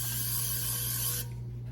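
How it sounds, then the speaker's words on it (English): A can of coconut avocado oil cooking spray hisses steadily into a pan for about a second, then cuts off, leaving a low kitchen hum. "I've got a coconut avocado oil spray and it's 0 calories"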